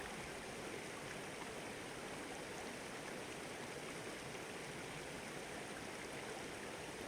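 Steady rushing and trickling of a flowing stream in the video game Open Country, a continuous broadband water wash holding even throughout with no talk.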